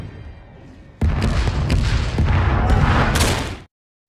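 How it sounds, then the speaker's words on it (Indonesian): Bombs fall on enemy tank positions in the war film 12 Strong: a sudden loud blast opens into a sustained roaring rumble of explosions that swells, then cuts off abruptly into silence. "Spencer memberikan koordinat ke pasukan udara untuk menjatuhkan bom ke posisi tank musuh."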